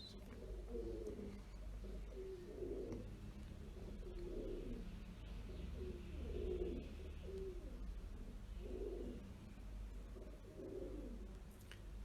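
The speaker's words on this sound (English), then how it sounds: "We can hear the pigeons" Soft, low pigeon coos repeat in a steady rhythm over a constant low hum, somewhat distant and quiet.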